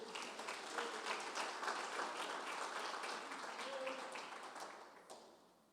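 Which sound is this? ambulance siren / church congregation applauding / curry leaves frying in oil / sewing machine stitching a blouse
church congregation applauding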